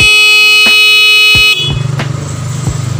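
A motorcycle anti-theft alarm horn blares loud and steady for about a second and a half, then gives way to rapid, repeated honking pulses close by.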